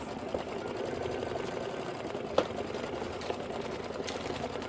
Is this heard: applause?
no